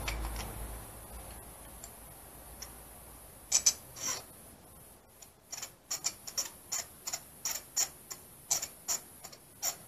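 A spark plug being tightened with a ratchet in a Toyota Corolla 1.6 VVTi, sounding as a series of close, regular clicks that start sparse and grow into a steady rhythmic ticking, with no talk.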